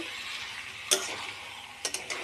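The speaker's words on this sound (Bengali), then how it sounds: "এখন চিংড়ি মাছটা দিয়ে দিচ্ছি।" Prawns dropped into a pan of fried ginger, garlic and onion paste with cumin and bay leaf, a low steady sizzle with a sharp clink and a few quick scraping stirs.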